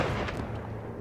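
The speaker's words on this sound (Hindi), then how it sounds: "फालतू में मुझे गोली चलानी पड़ी।" Gunshot in a Hindi-dubbed Hollywood action movie, a heavy booming report filling the whole moment, loud and close with a dense low rumble and no speech.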